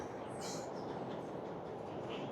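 A train rolls past on a railway, a steady low rumble and hiss of wagons with a faint high squeal, heard at a moderate distance with no talking.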